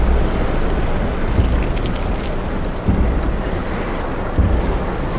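Underwater ambience in SOMA, a dense continuous low rumble and watery wash like muffled surf, with a few soft deep thumps, steady and enveloping without voices.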